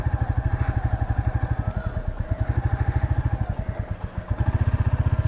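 A Royal Enfield Classic 350 in gunmetal grey thumps along at low speed on a muddy road, its single-cylinder engine pulsing in a fast, even beat, close and loud, with a brief dip in the rhythm before it picks up again.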